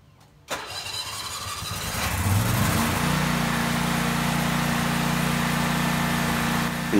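Vehicle engine starting and then pulling out while towing a trailer that carries a Toro TimeCutter zero-turn mower, a close engine rising and settling into a steady drone.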